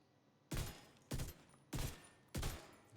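Four evenly spaced, loud rifle shots from a video game, each a sharp blast with a short decaying tail, fired alone in steady rhythm about half a second apart.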